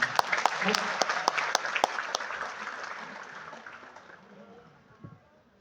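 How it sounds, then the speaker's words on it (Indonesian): Audience applause fills a hall at a company product launch event, loud clapping with sharp claps standing out at first, then thinning and fading over several seconds. "Aplaus untuk kita semuanya."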